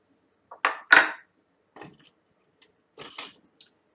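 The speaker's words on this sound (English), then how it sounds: "with the sugar, I'm going to go ahead and add in our eggs." Eggs going into sugar in a mixing bowl for cream cheese pumpkin bread: a few quick clinks and taps of shell and utensil against the bowl, close and clear, in short separate bursts with silence between.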